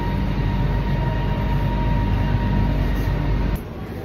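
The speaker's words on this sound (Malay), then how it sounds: "So saya dah sampai Pasar Seni yang tengah tunggu Kajang punya MRT." A Kajang line MRT train at Pasar Seni station gives a loud, steady rumbling roar that fills the platform, then drops off sharply near the end, with no talking.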